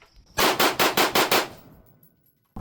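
Six rapid unsuppressed rifle shots from a VKTR AR-15 with a VK1 piston system crack out in a quick, evenly spaced burst, loud and close, followed by a brief fading echo.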